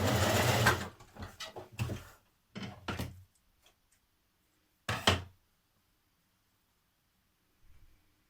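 A sewing machine stitches a 1940s vintage-style blouse facing in short, separate bursts of running, each lasting about a second, and falls quiet between them. A faint stray knock comes near the end.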